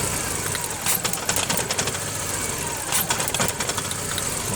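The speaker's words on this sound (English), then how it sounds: "You can hear some spark. So there is every tendency that is the coil wire that is leaking." VW Jetta engine idling with a leaking ignition coil wire, a steady near idle rumble broken by sharp intermittent snapping ticks of spark.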